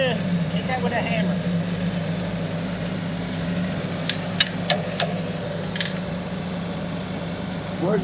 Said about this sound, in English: Hit that with a hammer.